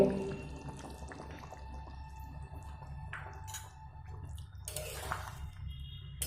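Dhaba-style chili chicken gravy thickened with cornflour simmering in the pot, faint soft bubbling and occasional drips, with a few light clinks and a brief louder splash near the end.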